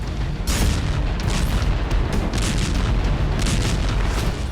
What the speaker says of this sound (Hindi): विस्फोटक धमाका किया था।